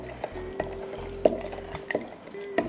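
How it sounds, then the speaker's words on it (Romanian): A glass jar holding sugar, vodka and cherries is shaken, giving a series of irregular clinks, knocks and liquid sloshing, close and fairly quiet. "Amestec, o să agit borcanul"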